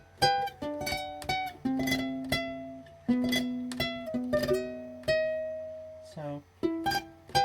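Plucked ukulele notes in quick repeated clusters, a four-finger tremolo with all fingers drawn up across the strings in fast succession, played close and alone in a string of short bright bursts with sustained ringing chords between them.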